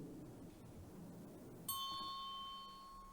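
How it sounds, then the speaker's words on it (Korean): A single bell strikes once with a clear, bright ring that hangs and slowly fades, sounding faintly in a quiet church setting. "무슨 소리예요? 종소리."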